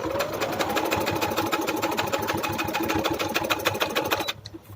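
A sewing machine runs steadily, stitching buckram onto the corners of fabric for a front-open, high-neck kite-bottom garment. Its fast, even needle rhythm sounds close, then stops abruptly near the end.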